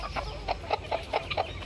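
A multicoloured hen in a backyard poultry enclosure clucks in a steady rhythm, about six short close clucks evenly spaced over a constant low background hum.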